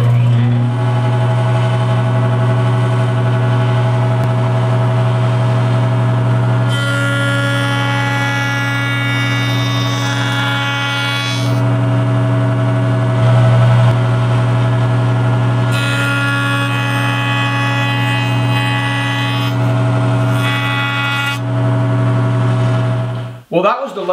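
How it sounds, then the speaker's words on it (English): A jointer planes bandsaw marks off reclaimed lumber: a steady motor hum runs throughout, twice swelling into a harsher cutting roar as boards pass over the cutterhead, then the machine winds down at the end. "remove the rough blade marks left from the bandsaw, and I'll do that with a pass or two over the joiner"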